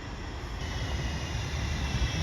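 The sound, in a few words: train interior, riding train to Victoria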